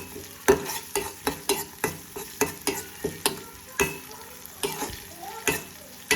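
Small pieces of chopped ginger sautéing in a pan for a dry shark fish curry. A busy sizzle runs under sharp, rhythmic scrapes and taps of a spoon stirring, close and with no voices.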